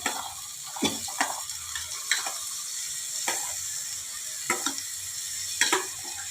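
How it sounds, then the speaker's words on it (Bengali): Green peas tipped into a pan of spicy Bengali chicken ghugni and stirred, giving a steady soft sizzle broken by several sharp scraping clacks of the spoon against the pan, close and fairly quiet, with no voices. "এবারে আমি মটরগুলোকে দিয়ে দিচ্ছি।"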